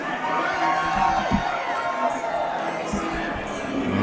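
Crowd at a live MMA fight event cheering and shouting, a steady wash of voices with scattered whoops, fairly loud and continuous through the clip.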